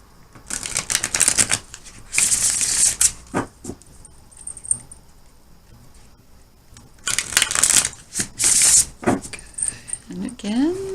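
Tarot cards being shuffled and laid out in a line on a table, crisp flicking and sliding bursts in two clusters separated by a quiet stretch, close and fairly loud, with light taps in between.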